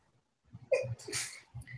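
A single sharp sneeze bursts out after a short quiet stretch, followed by a breathy exhale and a low murmur.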